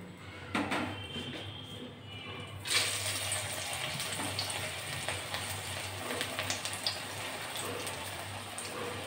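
Cabbage pakoras (badhakopir pokora) dropped into hot oil and frying, a steady broadband sizzle that jumps louder after a couple of seconds and keeps crackling continuously, close and without talk.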